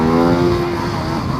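Ducati Multistrada motorcycle engine while riding, a loud steady drone with strong tonal harmonics, close and continuous, easing slightly as it goes, with no talk.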